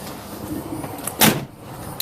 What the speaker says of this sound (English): Zach, if you could shut this door